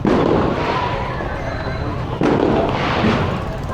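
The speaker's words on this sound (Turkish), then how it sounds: "Havai fişek atıyorlar bir yerde." Fireworks going off for a wedding celebration in a Pakistani city, a steady dense crackle and popping with a sharp burst partway through, loud and continuous with faint background noise.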